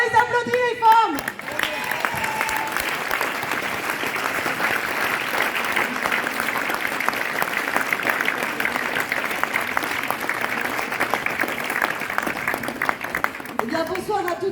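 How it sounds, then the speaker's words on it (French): Audience at a public political meeting in Cahors breaks into dense, sustained applause and crowd noise for the women present, loud and steady for over ten seconds after a brief voice at the start, tapering at the end. "Alors on les applaudit les femmes."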